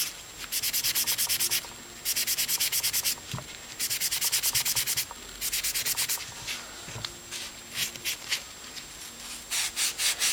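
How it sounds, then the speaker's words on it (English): A Scotch-Brite pad and alcohol scrub metal parts clean before black oxide finishing: rhythmic bursts of close, rasping back-and-forth rubbing, separated by short pauses. "scrub all your surfaces."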